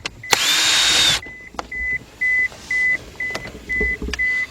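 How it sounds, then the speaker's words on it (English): A loud burst of cordless-drill whirring with a Phillips bit, removing screws from a 2000 Isuzu Rodeo, then a string of short, regular electronic beeps with brief gaps between them. "we're going to take our same cordless drill with our Phillips screwdriver bit on it"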